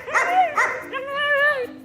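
Young protection-breed puppies yip and whine during a bite work training class, giving two short high yelps followed by a longer rising and falling whimpering cry, close and clear.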